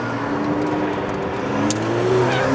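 A loud, steady engine drone with rising pitch from a McLaren P1 twin-turbo 3.8 V8 hybrid supercar accelerating hard on a race circuit, continuous and close throughout.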